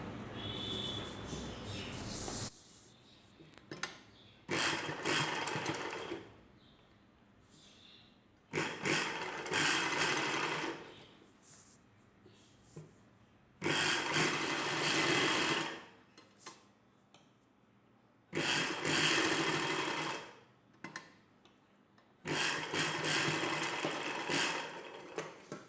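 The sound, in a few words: sewing machine stitching a dress collar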